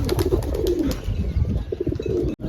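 A pigeon coos in a series of soft, throaty calls, fairly close and continuous, with faint rustling around it and no talking.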